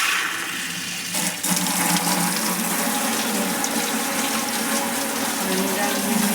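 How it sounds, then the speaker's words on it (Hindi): Water poured from a pitcher into a cooking pot holding fried yam (suran), a steady continuous splashing rush that runs the whole time, close and fairly loud, with kitchen clatter underneath. "अब थोड़ा सा पानी डालूंगी"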